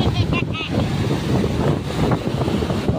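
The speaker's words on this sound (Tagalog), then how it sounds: "Ang lakas ng hangin." Strong wind buffets the microphone at the seashore, a steady roar mixed with surf as a large ship passes offshore, with people talking and exclaiming over it.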